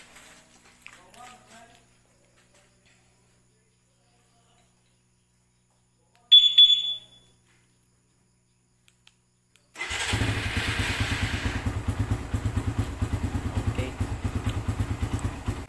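A Suzuki Raider 150 motorcycle starts after a quiet stretch and a brief high electronic chirp, then idles loudly and steadily with a dense low pulsing rumble to the end.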